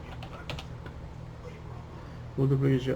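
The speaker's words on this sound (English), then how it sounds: "we're going to type the multiplication" Typing on a computer keyboard while entering C++ code, a quick run of light clicks over a steady low hum, with a brief tonal buzz near the end.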